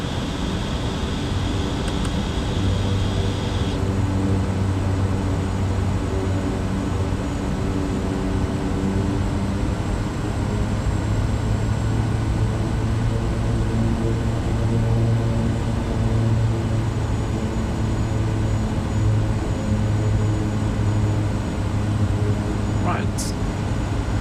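A de Havilland Beaver propeller plane in Microsoft Flight Simulator 2020 gives a steady, loud engine drone with a low hum held throughout, with a brief rising tone near the end.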